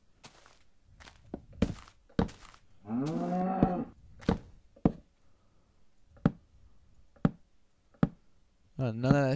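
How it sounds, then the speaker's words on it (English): Blocky cattle in the Minecraft video game give a drawn-out, wavering moo near the middle, set among sharp thunks, knocks and footstep clicks from block placing, with a faint voice murmur at the end. "Is that a cow?"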